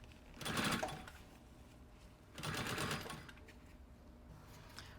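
A sewing machine stitches bias binding around the edge of a puffer backpack in two separate bursts of quick, steady whirring, each about a second long, over a constant low room hum.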